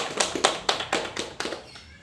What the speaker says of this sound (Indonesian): Tepuk tangan buat Mbak Vina sama Mbak Lia.